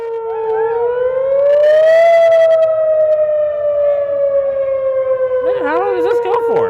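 A civil defense siren sounds in Wadsworth during a scheduled March test, one long loud wail rising to a peak and then slowly falling, with brief voices and chatter near the end.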